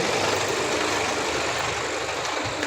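Idling engine of an articulated truck tractor head hitched to a curtain-side trailer, a steady low rumble running evenly throughout with no change in pace.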